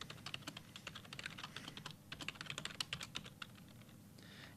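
Soft, fast typing on a computer keyboard, with rapid irregular keystrokes and a brief pause midway, quiet and close.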